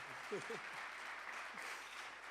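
Steady, faint audience applause fills a hall at an international gathering, while a voice briefly speaks over it near the start.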